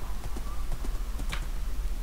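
A horse clip-clops in the video game Minecraft, an even run of close, regular hoof knocks over a low steady hum.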